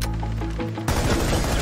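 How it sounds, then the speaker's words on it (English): In Rainbow Six Siege, a burst of gunfire is fired through a wall: a rapid volley of sharp, loud shots that cuts in suddenly and continues to the end, with no talk over it. "Bro, shoot him through the wall."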